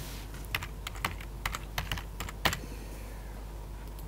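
Someone types on a computer keyboard during a programming lecture, a sparse series of crisp key clicks at irregular intervals, close by, over a steady low hum.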